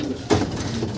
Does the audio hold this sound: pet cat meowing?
no